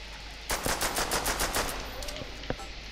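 A trench gun blasting at zombies in a video game, a rapid string of about eight loud shots in quick rhythm, then a lone shot after a pause, with brief talk in the background.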